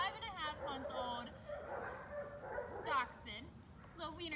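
A 5.5-month-old dachshund puppy yips and whimpers in thin, high, wavering cries, heard close and fairly faint underneath continuous talk.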